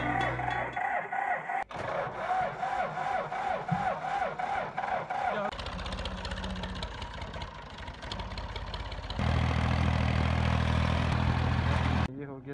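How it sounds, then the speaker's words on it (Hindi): A tractor engine being started on a cold winter morning in a mountain village, with a rhythmic cranking chug that shifts into a rough, louder running drone, close by and under a busy background. "हम ट्रैक्टर स्टार्ट करते हैं और सर्दी भी ज़्यादा है तो ट्रैक्टर स्टार्ट करने में प्रॉब्लम हो रहा है।"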